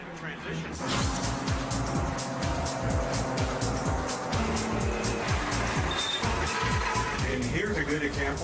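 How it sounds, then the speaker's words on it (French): A Caterpillar 785C haul truck drives past with a heavy, throbbing engine rumble, steady and fairly close, while a narrator speaks over it. "Voici un bon exemple de notre camion un peu plus gros que normal."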